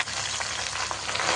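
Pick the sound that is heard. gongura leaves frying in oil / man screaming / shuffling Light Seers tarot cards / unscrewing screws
gongura leaves frying in oil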